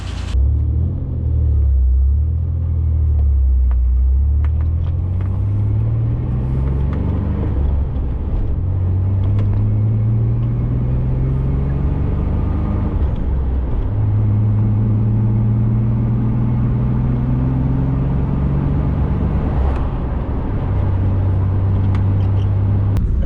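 A Ford Bronco II driving along a road, its engine droning steadily close by with rising and falling tones as it shifts and accelerates through gears, alongside constant road rumble and no talk.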